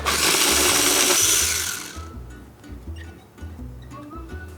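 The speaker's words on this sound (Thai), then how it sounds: "ปั่นให้พอเข้ากันครับ" A loud whirring food processor blends herbs and chilies for about two seconds, then stops, leaving quieter low thumps and clatter.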